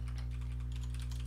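Fast keystrokes clatter on a computer keyboard during live coding, a faint, steady run of taps over a constant electrical hum, with no talking.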